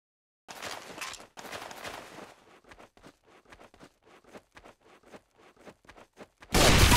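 Video game gunfire in a one-on-one match, heard as dense rapid bursts of shots followed by a scattered run of single cracks, ending in a loud blast of noise.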